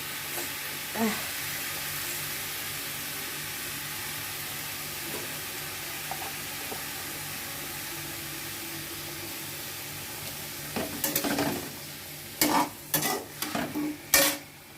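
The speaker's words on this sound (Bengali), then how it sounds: "এবার আলু ভাজাগুলো দিয়ে দেবো এবার একটুখানি হলুদ আর নুন দিয়ে দেবো" Fried potatoes tip into a sizzling wok with turmeric and salt, a continuous frying hiss followed near the end by several sharp scraping stirs of a utensil against the pan, close and loud, with no talk.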